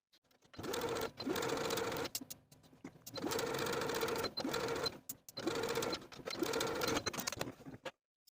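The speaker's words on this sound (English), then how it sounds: "Now I'm going to sew those hems in place, edge stitching close to those inner folds all the way around." A domestic sewing machine edge-stitches the hems of a 1960s tie-collar top, whirring in four steady runs separated by short stops, close and clear with no talk.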